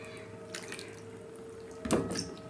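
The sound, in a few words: washing cut bitter gourd in water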